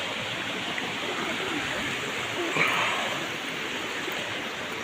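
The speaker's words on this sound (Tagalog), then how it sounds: "Ang ganda ng tubig." A stream flows steadily outdoors, a constant broadband rush of moving water with a brief swell partway through and no talk over it.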